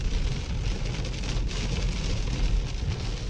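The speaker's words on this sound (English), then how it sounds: "The storm cell's gone into general rain now." Heavy rain from a storm cell pours down steadily in a dense, loud hiss with rumbling low noise, continuous throughout with no voices.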